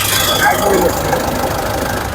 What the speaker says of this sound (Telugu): ఇంజిన్ అయితే చాలా సైలెంట్ ఉంది చూడొచ్చు